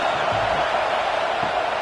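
Stadium crowd noise from an American football video game forms a loud, steady roar of cheering fans during a third-down defensive stand, with no other sound breaking through.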